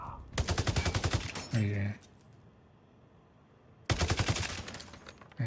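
Rapid automatic gunfire from the Division mobile video game, two dense bursts of quick shots separated by a quiet pause, with a short spoken word between them.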